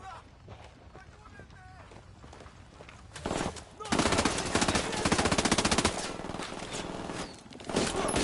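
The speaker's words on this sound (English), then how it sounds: "I'm opening fire" Gunfire in the video game Ghost Recon Wildlands: scattered shots give way to loud, sustained bursts of automatic fire that hammer on almost without pause.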